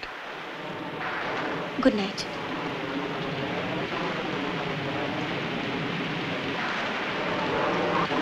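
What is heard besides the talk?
heavy rain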